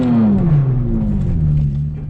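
A Lexus IS300's engine is revved and the clutch dumped in second gear: a loud, close engine note drops steadily in pitch as the revs bog down, with no tire chirp.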